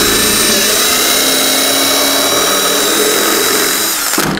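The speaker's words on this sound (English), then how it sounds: "and drill right through the deck" A power drill with a standard 3/8 bit cutting through a Honda HRX lawn mower deck, a loud steady whine that holds throughout and cuts off abruptly at the end.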